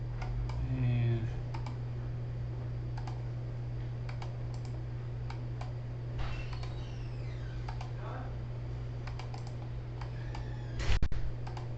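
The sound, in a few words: mouse clicking in RoofSnap software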